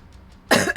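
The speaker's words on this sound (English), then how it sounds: "I just probably had like an outrageous cough that you just heard" A single harsh, loud cough bursts out close by after a quiet moment, breaking into two strong explosive pushes.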